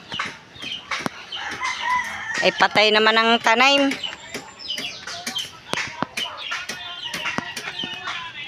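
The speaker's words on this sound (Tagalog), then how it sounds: "Namulupot na ang manok." A chicken gives a loud, close crow with stacked harmonic calls, rising over scattered clucks and clatter. People talk on and off around it.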